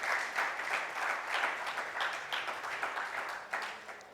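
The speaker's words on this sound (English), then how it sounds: "let's have a huge round of applause for this session" A conference audience gives a round of applause for a 5G India 2022 session, steady dense clapping from a crowd, heard at moderate distance and tapering slightly toward the end.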